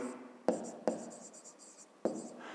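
Handwriting in a fifth-grade maths lesson on a volume problem makes soft pen scratching on paper, marked by three sharp taps where the pen meets the page, under quiet background.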